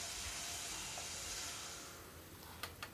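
Chopped tomato with salt sautéing in a pressure cooker, giving a loud, steady hissing sizzle that eases off after a couple of seconds, followed by two sharp clicks near the end.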